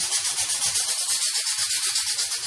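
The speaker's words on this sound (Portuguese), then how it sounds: "com uma lixinha que eu tô usando uma lixa de MDF" Fine MDF sandpaper rubbing over a styrofoam ball in steady, rhythmic back-and-forth strokes, close and fairly loud, with no voice.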